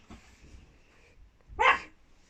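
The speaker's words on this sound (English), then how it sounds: "my dog is barking because someone just opened the door" A pet dog indoors lets out a single sharp bark as the door opens, following a quiet stretch of faint room noise.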